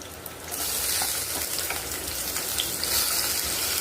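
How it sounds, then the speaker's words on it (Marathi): Eggs, garlic and tomatoes frying side by side in one pan, a steady close crackling sizzle that starts after a brief quieter moment and keeps a dense, even hiss throughout. "एका साईडला अंडी आपली फ्राय होतात, दुसऱ्या साईडला आपली जी गार्लिक आहे ते फ्राय होत आहे"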